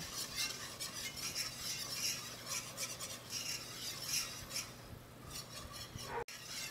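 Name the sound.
stirring gravy in a pan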